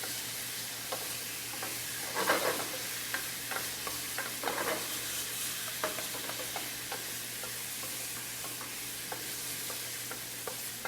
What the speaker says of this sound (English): You want to cook them until they become translucent.